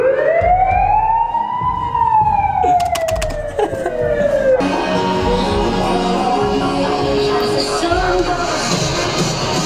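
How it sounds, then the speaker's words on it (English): An emergency vehicle siren wails outside at night with a rising and falling tone, loud and fairly close, then gives way to a busy street din of traffic and passing noise. "A siren."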